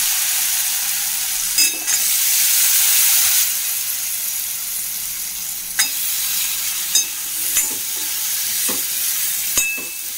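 Cut potatoes fry in a pan with spices such as red chili under a loud, continuous sizzle and hiss, with occasional scrapes and knocks from stirring at irregular intervals, close by and with no voices.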